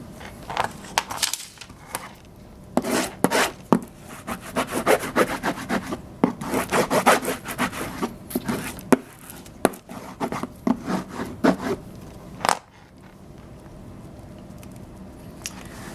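A wooden stacking box is being rubbed down by hand, with steady scraping and rasping strokes in an uneven rhythm that fade toward the end, alone and without voices.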